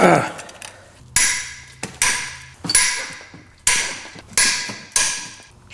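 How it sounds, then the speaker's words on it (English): A 3/8 drive ratchet with a socket undoes the head bolts on a Jaguar F-Type (X152) engine, giving a series of about seven loud metallic clacks, each followed by a brief ringing decay, close and spaced roughly every second. "to undo the head bolts, you'll need the R12 socket. And for me, it's a 3/8 drive"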